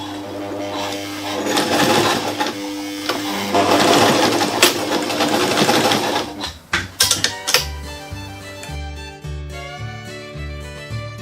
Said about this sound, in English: now just going to stitch this rectangular box, top stitch length of